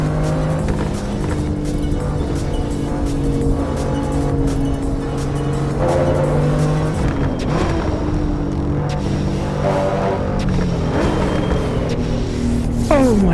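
A German race car in the Assetto Corsa Evo racing game roars loud and close, its engine pitch rising and falling through gear changes, with a sharp tire squeal near the end.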